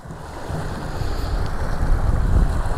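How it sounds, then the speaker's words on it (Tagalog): Strong high-tide water current from Manila Bay rushing against a dike, a loud continuous churning roar of flowing water mixed with wind buffeting the microphone. "Sobrang lakas ng agos."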